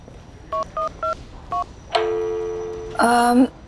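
Four short, evenly spaced keypad beeps, then a long steady tone and a brief buzzy electronic ring.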